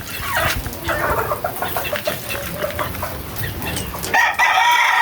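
Chickens cluck and chatter close by in a busy yard, and a rooster crows loudly near the end.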